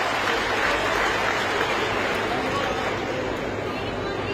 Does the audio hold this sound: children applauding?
yes